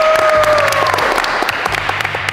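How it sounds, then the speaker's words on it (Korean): The K-pop group and crew on a music video set give a loud, sustained round of close applause, with some cheering and voices mixed in. "그러면 수고했다는 의미로 박수 한번 칩시다."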